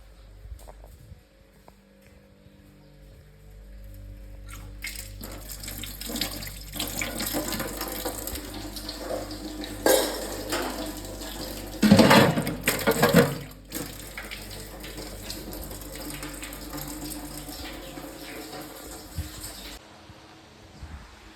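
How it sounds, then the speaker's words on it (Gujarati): Water runs from a tap to fill a container, a steady close rush that starts after a few quiet seconds, swells briefly in the middle and then cuts off near the end. "હવે હું પાણી ભરી લઉં."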